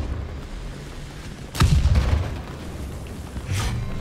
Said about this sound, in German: der wird ja nur noch beschossen, aber überlebt